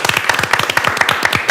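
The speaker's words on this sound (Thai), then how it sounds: "ปรบมือด้วยนะครับทุกคน" Close, distinct handclaps from a small group ring out at a live entertainment event in a quick, slightly uneven rhythm that lasts only a moment.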